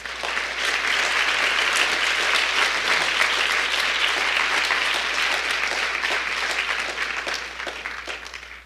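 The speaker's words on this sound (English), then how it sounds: "if you guys could just stand so we can give you guys a big round of applause" A conference audience bursts into dense, loud applause after a 2015 closing keynote, a thick continuous roar of clapping that holds steady for most of nine seconds before tapering at the end.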